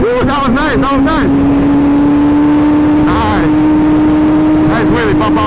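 Sport motorcycle engine revving hard during a wheelie, a loud sustained whine climbing in pitch, with people talking and exclaiming over it near the start and end.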